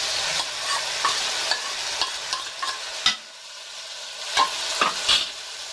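A spoon scrapes and stirs through spices frying in hot oil for balti gosht, among them green chillies, red chilli powder, salt, garam masala, crushed red chilli and cumin, with soft sizzling between irregular close stirs.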